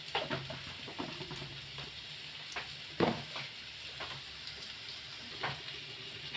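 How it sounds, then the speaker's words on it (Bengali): Potatoes frying in a pan, a soft steady sizzle with scattered crackles and a few light scrapes of stirring, close by and moderately quiet, with no talking. "এই আলুটাও ভাজা হয়ে গেছে"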